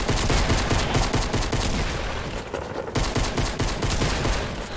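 Dense, continuous bursts of video game gunfire during a multiplayer fight with shotguns, loud and close, layered rapid shots with almost no break across the span.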